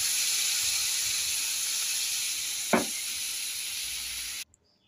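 Fried spice paste for a morola fish jhal hisses loudly in oily pan as water goes in, a steady bright sizzle with a brief sharper spurt midway, then cutting off abruptly near the end.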